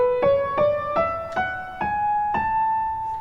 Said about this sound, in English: In contrast, major scale sounds like this.